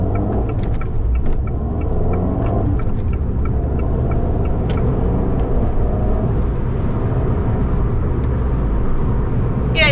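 An Abarth car engine pulls hard under acceleration, a steady, loud, close low rumble that runs unbroken throughout, heard from inside the car.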